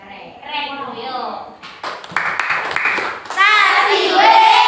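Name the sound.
children doing the 'tepuk keren' clapping routine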